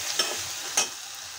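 Ginger-garlic paste being stirred into fried onions in a pan for a dried loitta fish bhuna: two brief scraping stirs over a soft, steady sizzle, close and alone.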